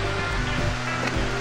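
Acquafraggia waterfalls in Lombardy, a constant broad roar of falling water filling the whole stretch, loud and steady with no pauses.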